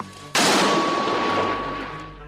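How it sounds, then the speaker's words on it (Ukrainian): A single loud gunshot cracks sharply, then a long rolling echo decays slowly across the next two seconds. "Постріл!"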